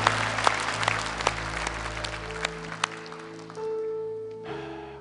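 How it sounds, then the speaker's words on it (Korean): A church congregation at Hallelujah Church claps in praise during an Easter-season sermon, a reverberant wash of applause with sharp individual claps that fades out, leaving a sustained organ or keyboard tone. "주님께 영광의 박수 올려드립니다"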